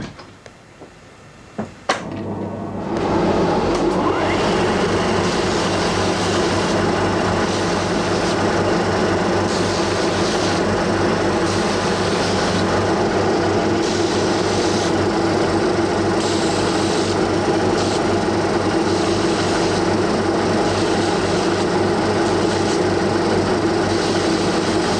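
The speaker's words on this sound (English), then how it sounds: "Now I'm going to grind the shape of the brass to the buffalo on the power wheel." A power grinding wheel shapes a piece of brass in a Sheffield pen knife cutler's workshop, starting after a couple of brief knocks and then running as a loud, continuous, rough whir that holds steady to the end.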